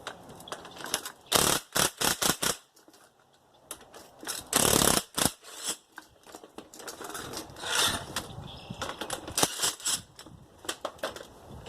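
A ratchet wrench loosens bolts on a Chevrolet Cobalt SS during a lowering spring install, with bursts of rapid clicking separated by short pauses, close and crisp.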